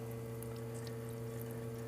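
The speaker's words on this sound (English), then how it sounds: "open it till you get a nice flow of water coming out of it" Water runs in a steady, quiet stream from an espresso-style coffee machine as its boiler fills with the handle raised, over a constant low mechanical hum.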